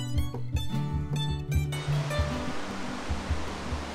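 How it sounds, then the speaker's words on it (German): A raging torrent of mountain water in the High Caucasus roars as a broad, continuous rush, joined by a steady pulsing musical beat that is louder and tonal at first and then sits under the water noise. "Guckt euch mal diese Wassermassen an, wie das tobt."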